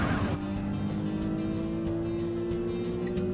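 Cartoon race cars roar off the starting line together, a dense steady engine drone with rising tonal whine, loud and continuous throughout with no talk.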